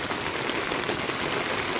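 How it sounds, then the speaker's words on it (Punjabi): Steady, dense rain pours over buffaloes in an open farm field in Punjab, a continuous close hiss of drops with no voices. "ਕੁਦਰਤੀ ਮੀਂਹ ਹੈ ਜਿਹੜਾ ਬਹੁਤ ਚੰਗਾ ਪਸ਼ੂਆਂ ਨੂੰ"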